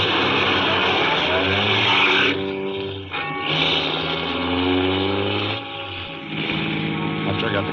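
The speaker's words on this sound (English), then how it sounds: "After I got the car back on the road again" Steady engine drone of a car driving along a road, a radio drama sound effect from a 1940s mystery, with a sustained low hum and brief dips in level as it rolls on alone without talk.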